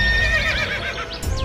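A horse whinnies in a cartoon story sound effect, a loud, wavering neigh that rises and falls through the clip and fills it without any talking.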